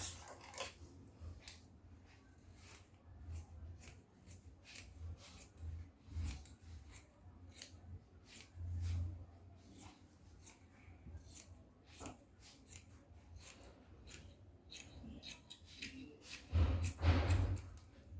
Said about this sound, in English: Okay, so I'll go ahead and cut it out.